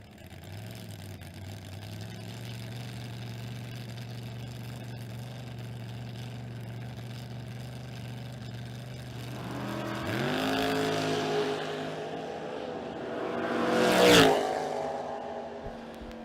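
Two drag-racing cars, a Chevrolet Malibu and a 1968 Chevrolet Nova, idle with a steady, throbbing engine drone at the strip. Then revs climb and both cars launch, building to a loud roaring burst near the end.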